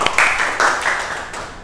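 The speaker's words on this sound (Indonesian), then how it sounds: "tepuk tangan buat Mas Haidar." A small classroom group gives a short burst of hand clapping, a few quick bright claps close by that fade out within a second or two.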